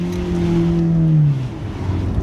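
A modded turbocharged Ford Mustang EcoBoost exhaust holds a loud, steady engine note, then the revs fall away and settle into a lower idle burble, heard close up with no talk.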